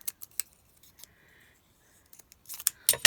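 Scissors clipping a paper belly band for a craft project: a handful of sharp, close snips spread unevenly across a few seconds, a quick cluster near the end, with no talking.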